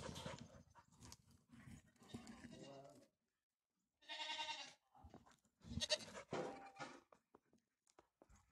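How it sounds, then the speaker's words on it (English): Goats bleat repeatedly as they come out of a barn into snow, several overlapping calls close by, mixed with a voice talking outdoors. "The goats are coming out of the barn."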